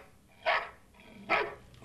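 Two clear dog barks a little under a second apart, close and moderately loud, with a third beginning at the very end, amid a quiet background.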